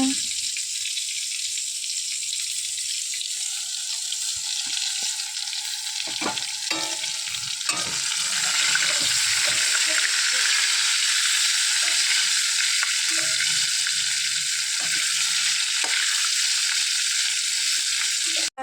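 Eggplant frying in a pan in a home kitchen, a long steady hiss of sizzling oil with occasional clinks and knocks around it, fairly close and continuous.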